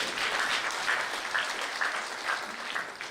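Louder crowd applause at a university anniversary press conference, sustained dense clapping from many people filling the whole stretch at an even level.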